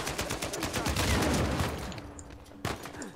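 Gunfire in the video game Uncharted 4, a dense burst of rapid shots and clatter that eases off, then one more sharp shot near the end.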